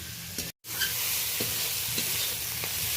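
Onion, green chilli and prawns are stir-fried in a pan, giving a continuous soft sizzle with occasional spatula scrapes and one brief dropout near the start.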